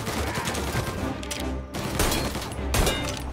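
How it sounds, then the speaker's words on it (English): Gunshots ring out in a Mafia: Definitive Edition shootout, a dense, loud barrage of overlapping shots that briefly thins out midway before picking back up. "Trying to shoot this man's leg."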